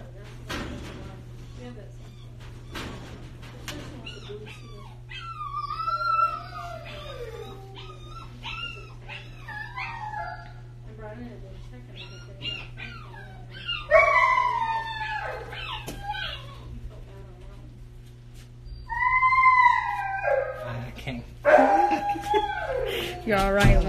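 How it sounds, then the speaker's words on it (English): A Mini English Bulldog whines and howls in rising and falling cries, broken by short yips, with a steady low hum underneath and a few louder outbursts toward the end. "That dog is pissed off, I told you. That dog has a whole lot to say."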